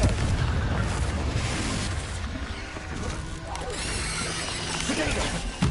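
Confringo blasting curse explosion in Hogwarts Legacy erupting amid ongoing battle, with crashing, shattering booms and rumbling debris at fairly steady loudness, voices talking over the chaos.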